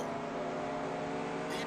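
Race car at Walt Disney World Speedway heard from in-car, its engine droning steadily at high revs down the back straight, with a brief blip and burst of noise near the end as the engine lets go.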